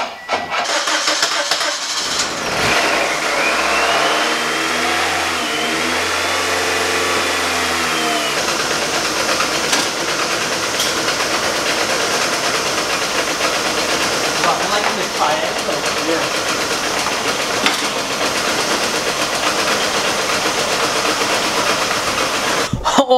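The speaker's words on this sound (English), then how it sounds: "The engine actually started, but we ran into a little problem. It seems like it's idling super, super, super rough." A Toyota 1ZZ-FE engine cranks and fires into a loud, rough, uneven idle that runs steadily to the end, with a brief rising pitch during the start.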